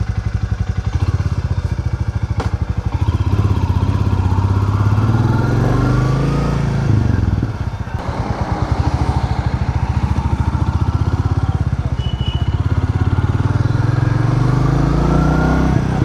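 A motorcycle rides along the Nashik–Pune road toward Sangamner, its engine droning loudly and steadily up close with rising and falling revs, and wind and road noise throughout, with no talking.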